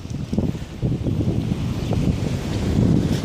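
Strong gusting wind during a heavy rainstorm with thunderstorms by the sea buffets the microphone in loud, uneven rumbling bursts that build toward the end, with no voices.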